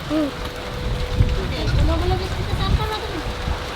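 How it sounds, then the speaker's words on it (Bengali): Rain falls heavily with thick, pattering drops, while people talk close by over it. "কত বড় বড় ফোঁটা পড়ছে দেখো।"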